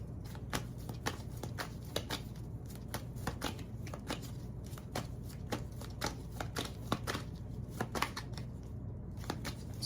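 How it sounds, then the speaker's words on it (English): A tarot card deck being shuffled over and over, a steady run of crisp riffling bursts close by, with a low constant hum underneath and no voices. "I feel like I need to really mix my deck up."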